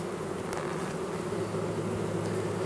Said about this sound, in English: A lot of these bees have swarmed